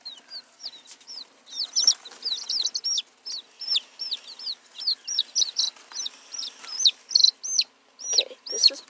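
A group of young chicks peeping close by, a busy run of high, repeated chirps in quick clusters, some louder and sharper, with no talk.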